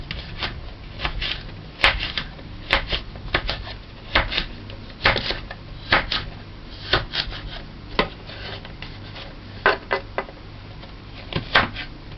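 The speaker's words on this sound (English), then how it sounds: "dice away, dice away." A knife dices food on a cutting board, its sharp, close chops falling in a steady, slightly uneven rhythm.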